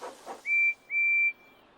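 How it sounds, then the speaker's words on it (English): Percy the small green tank engine from Thomas and Friends sounds his steam whistle twice, two clear high toots, the second longer, fairly quiet and heard from a distance after a couple of soft thumps. "Thomas listens to Percy's whistle."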